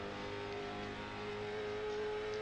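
A NASCAR stock car engine, down on horsepower and not reaching the rev limiter, holds a steady, high-pitched whine throughout at a Nashville race, fairly faint and with no voices.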